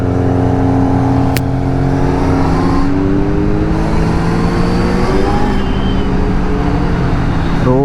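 A Kawasaki Z900 sports bike revs hard on a night road, its exhaust loud and close, with a deep harmonic drone that rises in pitch as it accelerates and a sharp click partway through.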